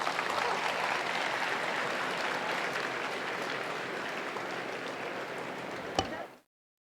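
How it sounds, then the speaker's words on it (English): An audience at a gathering for His Holiness claps in steady, even applause that holds for several seconds before cutting off abruptly, with one sharp knock near the end. "Ladies and gentlemen, His Holiness, with a loud clapping,"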